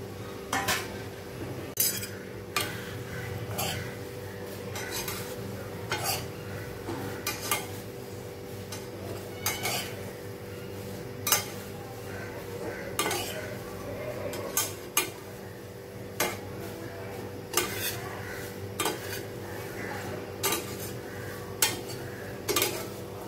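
Poha is stirred in a pan as it heats, with irregular metallic clinks and scrapes of a spoon against the pan repeating throughout, close and fairly crisp, with no talking.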